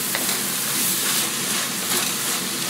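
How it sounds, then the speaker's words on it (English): Chopped vegetables for dirty rice sizzle steadily in a hot pan as they are stirred, a continuous close, bright frying hiss with soft scraping, no voices. "Gonna get these vegetables in here. Want to break them all down. And just keep stirring these around."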